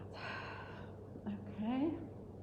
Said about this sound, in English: Taking a breath in and taking a breath out.